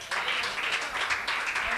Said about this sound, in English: Let's give these ladies a good hand.